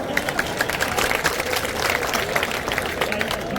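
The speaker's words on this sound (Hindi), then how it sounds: "ताली बजाओ" An outdoor rally crowd claps on cue for a politician addressing a public meeting in a village, a brief patter of scattered hands mixed with crowd noise and voices.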